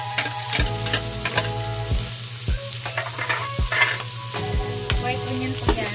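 White onion and garlic sauté in a hot pan, a strong steady sizzle close up, with a repeated scraping and tapping rhythm from a utensil and a persistent low hum underneath.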